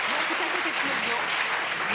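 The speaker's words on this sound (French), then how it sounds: "on peut l'applaudir, c'est vrai" Steady applause from a French TV studio audience for Michel, a continuous wash of many hands clapping, with some murmured talk underneath.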